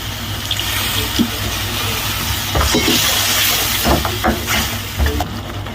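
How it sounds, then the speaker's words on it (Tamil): Water is poured into a pan of frying masala with oil, giving a steady hissing sizzle with faint bubbling and a few soft clinks close by. "லைட்டாக தண்ணி ஊற்றிக்கலாம்"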